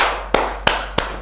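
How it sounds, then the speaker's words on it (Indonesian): Three sharp hand claps ring out in an even, steady rhythm, close and fairly loud against a quiet background, as an audience cue during an Indonesian religious talk podcast. "Tepuk tangan."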